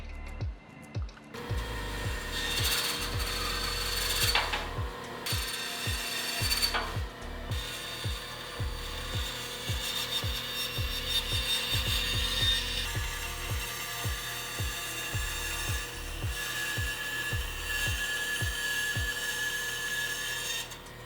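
Repeated rasping strokes of sanding against the curved edge of a wooden bunk bed step, close and moderately loud, with an irregular rhythm of scrubbing passes and brief pauses.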